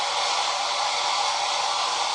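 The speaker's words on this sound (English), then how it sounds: "My blow dryer going so we can move right along with this" A blow dryer runs steadily close by, giving a constant loud whooshing hiss with no pauses while someone works on stoneware crock home decor crafts.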